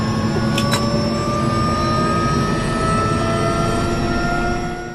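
A helicopter carries a girl and her mother. Inside the cabin a steady loud turbine drone and whine run on throughout, with a brief high chirp near the start.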